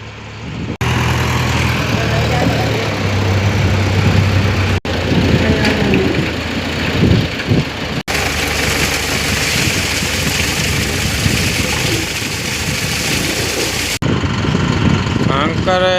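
Diesel engines of a concrete lorry stuck in the ground and a JCB working to free it, a loud continuous rumbling drone close by, with people talking over it.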